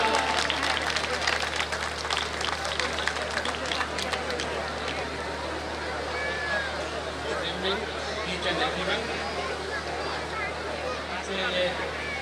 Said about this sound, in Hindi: जोरदार तालियों से स्वागत करें अपने उपायुक्त महोदय का।